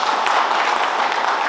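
Audience applause fills a hall, a dense, even wash of many hands clapping together at steady volume for a brief moment.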